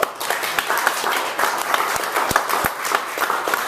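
Audience applause at a stand-up comedy show, a dense, steady wash of clapping hands with a few sharper individual claps standing out, filling the whole stretch without any talk.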